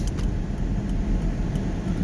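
Interior road noise from a 2005 Volvo V50 being driven: a constant low engine and tyre rumble with faint rattles and clicks on top, no talking.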